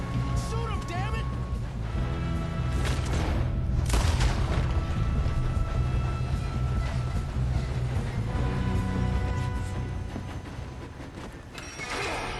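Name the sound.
gunfire in the video game Red Dead Redemption 2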